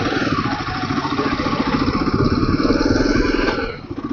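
A big-bike motorcycle engine revs hard during a test ride, a loud close throbbing roar that builds and holds steady before easing off near the end.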